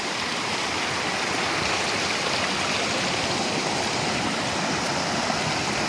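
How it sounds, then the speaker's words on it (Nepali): A river flows at the confluence of two streams in Bhojpur, Nepal, making a steady, dense rushing wash close by that holds unchanged throughout, with no voices. "बगिरहेको छ है साथीहरू खोला।"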